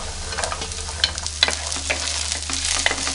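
Beans sautéed with vegetables in a pan for a restaurant-style veg curry, a steady close sizzle with rhythmic spatula scrapes and knocks over a constant low hum.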